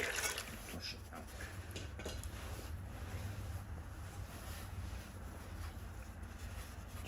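Water is flushed over the parts of a Toyota MR2 Turbo engine bay during a refurb, giving a steady outdoor wash and splash under wind rumble that runs throughout, with a person talking over it.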